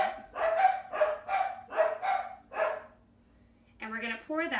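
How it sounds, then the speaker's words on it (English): A dog barks repeatedly indoors in a home kitchen, sharp close barks in quick bursts, then a pause before more yelping barks return at the end. "one of the things I cannot control in my house is when the dogs bark"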